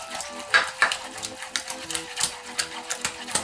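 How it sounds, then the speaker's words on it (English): Gluten-free eclair dough being stirred hard in a pot, a fast run of loud scraping knocks and clacks against the pan, irregular and close, with voices chattering over it. "Stir, stir, stir."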